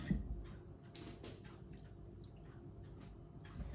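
Water poured onto a thirsty potted houseplant being treated for spider mites, soft close drips and squishy trickles into the soil, very quiet, with no talk.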